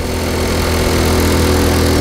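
A Honda Cub C90 motorcycle engine running steadily as the throttle is turned, a loud, close, buzzy single-cylinder drone that holds even and continuous with no talk.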